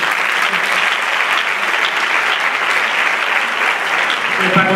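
Dense, sustained audience applause at a theatre gala for seniors, loud and continuous from start to finish with no pauses.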